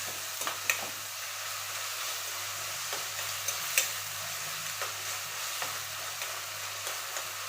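Chopped onion and tomato with salt sizzle in a pan while a spoon stirs them, giving a steady frying hiss punctuated by sharp scraping clicks.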